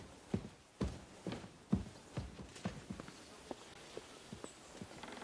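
Horse hooves clip-clop in an irregular walking rhythm in a video game, a steady run of moderately loud, close hoofbeats heard alone without any talk.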